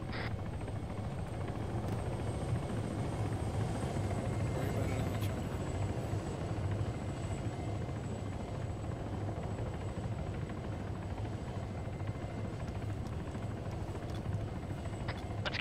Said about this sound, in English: Let's get in that helo, time now